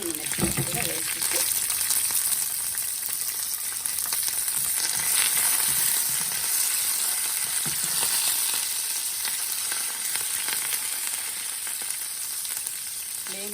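Curry leaves and green chillies hit hot oil with fried chana dal, throwing off a loud, steady, bright sizzle that crackles on without a break, with faint clinks and stirring beneath.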